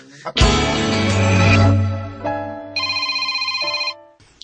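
A cellphone ringtone plays loud and close, a bright electronic melody with sustained tones that shifts into a fast pulsing repeated beep before cutting off, all heard alone.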